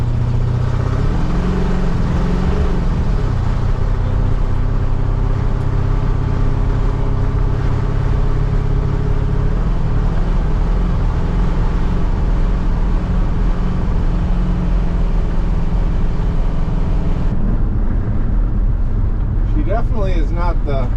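A 1974 International truck on its first drive in many years, its engine and running gear giving a steady, low, continuous rumble from inside the cab, with a brief voice near the end.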